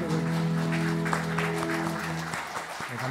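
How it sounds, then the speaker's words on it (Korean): A church congregation applauds during a Sunday worship service in a steady, even patter of many hands clapping over sustained musical tones, without talk. "우리 축하와 격려의 박수."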